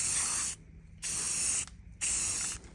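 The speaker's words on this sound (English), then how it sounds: "So now I'm just spray painting with the flat black primer." Three short bursts of flat black primer spray paint from an aerosol can, each a sharp hiss lasting about half a second, separated by brief pauses.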